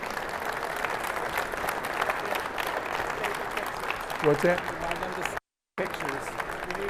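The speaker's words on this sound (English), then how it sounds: "one last round of applause for the contestants" An audience gives a final round of applause for contestants at the TISE 2024 National Installer of the Year winner ceremony, steady moderately loud clapping with a brief voice partway through and a short dropout near the end.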